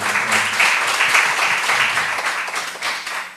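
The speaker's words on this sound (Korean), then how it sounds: "같이 하나님께 영광의 박수 올리겠습니다." A church congregation applauding during a Friday overnight worship service: a sustained, dense wash of many hands clapping together in a large room, holding steady before tapering slightly at the end.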